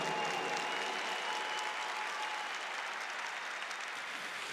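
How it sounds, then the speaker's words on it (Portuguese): A church congregation applauds at a worship service, a thick, steady roar of many hands clapping, loud and continuous, with a faint sustained tone underneath. "Você pode aplaudir esse Deus maravilhoso."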